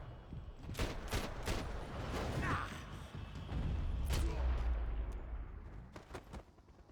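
Assault rifle fire at enemies in a video game, rapid bursts and explosive cracks over a rumbling battle background, with a voice speaking over parts of the action.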